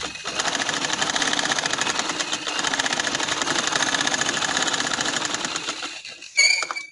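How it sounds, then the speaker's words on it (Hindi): A sewing machine runs steadily at a fast, even stitching rhythm, double-stitching kameez fabric, loud and close, before stopping briefly near the end. "डबल सिलाई लगाऊंगी फिर बहिए बड़े की।"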